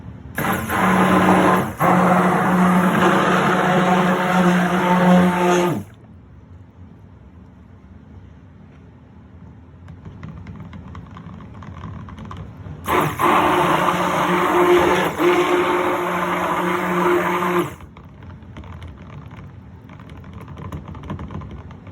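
A blender mixes unscented coffee soap batter in two loud, steady whirring bursts, each about five seconds long, with a quiet pause between them.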